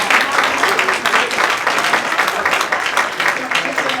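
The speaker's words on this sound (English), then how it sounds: "Give them both a round of applause" An audience at a Chabad anniversary gala claps in a dense, steady burst of applause, fairly close, with voices mixed in beneath the clapping.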